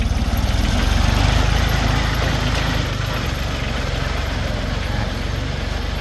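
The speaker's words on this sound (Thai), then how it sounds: "ตัวนี้เป็นเครื่องยนต์3สูบนะครับ" A Kubota L2808 four-wheel-drive tractor from 2007 with a three-cylinder diesel engine idles steadily nearby, a loud continuous low rumble with fine rapid pulsing that holds even throughout.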